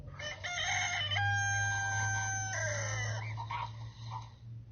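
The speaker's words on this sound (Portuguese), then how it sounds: "Galo," Rooster crowing from an app sound effect, one loud drawn-out cock-a-doodle-doo close by that trails off into a few softer clucking notes over a low hum.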